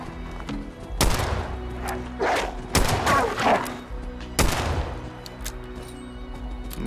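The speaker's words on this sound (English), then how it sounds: "I'm wasting bullets here." Guns fire in the post-apocalyptic video game Fallout 76: several sharp, loud shots ring out at irregular intervals, with quieter game noise between them.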